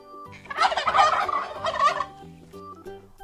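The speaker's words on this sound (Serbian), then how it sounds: "A kako se ćurka čuje? Hajde da poslušamo." A turkey gobbles loudly and close by, a rapid warbling burst that trails off into a few shorter gobbling notes.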